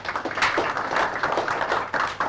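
An audience at a live insurance partnership event for the Gor Mahia football club breaks into applause, a brief burst of dense, rhythmic clapping from a crowd.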